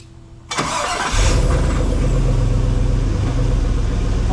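Willys Wagon engine cranking briefly then catching, settling into a loud, steady, close idle with a deep exhaust rumble.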